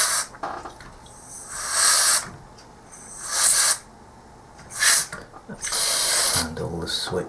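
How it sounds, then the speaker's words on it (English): Four bursts of contact cleaner aerosol spray into the controls of a Philips CM8833-II monitor hiss loudly in close succession, each lasting about a second, separated by quiet pauses. "Spray some contact cleaner in all the"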